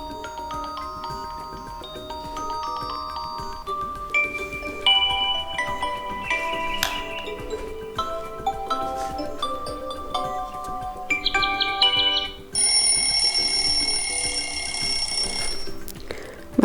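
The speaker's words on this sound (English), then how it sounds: "Then you can also choose one from the alarm sounds or notifications" Alarm tones on a Xiaomi Black Shark 3 phone played one after another, bright electronic melodic chimes and beeps that shift pitch and pattern across several short tunes, close and clear with no talking.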